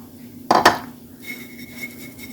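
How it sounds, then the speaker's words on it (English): Bacon dropped into the bottom of a greased deep-dish pie pan makes two quick, close clattering knocks in rapid succession, followed by a faint steady hum and light rustling. "this is a greased deep dish pie pan. Put our bacon in the bottom."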